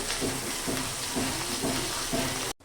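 Ginger and garlic paste sautés in a pan for a poa fish curry, giving a steady close sizzle with soft rhythmic stirring scrapes and no voices.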